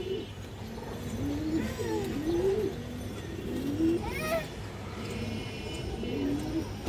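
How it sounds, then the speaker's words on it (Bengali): A pigeon offered for sale at a Bangladeshi pigeon market coos in low, rolling phrases that repeat steadily through a constant background murmur, with one sharper rising call near the middle. "খুবই সুন্দর একটা কবুতর"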